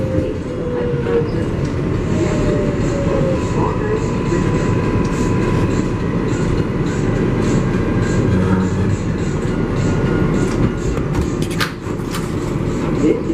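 An MTA 7 local subway train bound for Flushing Main Street rumbles along the track in a steady, loud roar with faint clicking from the wheels, while a brief automated announcement sounds over the noise.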